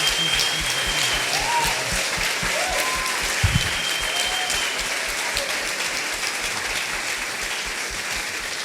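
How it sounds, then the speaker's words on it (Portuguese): A congregation at a church cell-group congress claps continuously in a dense, even wash of applause that holds steady throughout, with a few whistles or cheers mixed in. "Un aplauso para Jesucristo."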